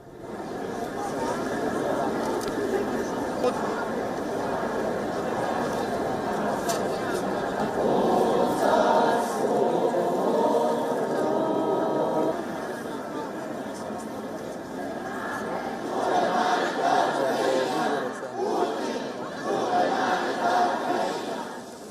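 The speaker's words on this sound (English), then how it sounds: "The crowd marched with candlelights towards the Colosseum, lit with the colors of the Ukrainian flag." Dense crowd of protesters against the Russian invasion marching with candles toward the Colosseum in Rome, a steady wash of overlapping chatter and murmuring voices with occasional louder swells, some laughter, fairly close and continuous throughout.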